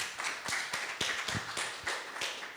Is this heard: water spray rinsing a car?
no